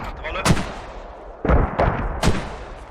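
Mortar fire in a combat video game on the Fools Road map: three or four loud, sharp booming blasts spaced irregularly over a low background rumble.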